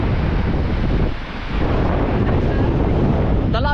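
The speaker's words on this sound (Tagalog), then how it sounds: "Ang lakas ang hangin." Strong wind buffets the microphone in a continuous heavy roar, easing briefly before surging back, loud and close throughout.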